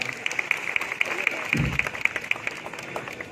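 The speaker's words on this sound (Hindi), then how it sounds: "उनका खैर मकदम करिए जोरदार ताली बजा करके एक बार" An audience at a stage event in India claps to welcome an arriving guest, giving a steady, fairly loud wash of applause. A high steady tone with regular short beeps runs through it, and voices are heard over it.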